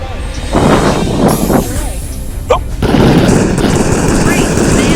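Enemy gunfire in the VR shooter Raw Data comes as rapid bursts over a dense, noisy game soundscape, with a player talking over it.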